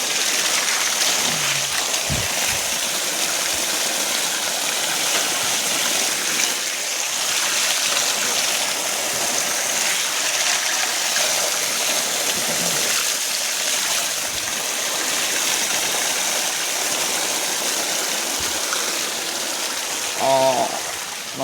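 Stream water flows steadily at an outdoor bathing spot, a continuous rushing wash with occasional faint voices in the background.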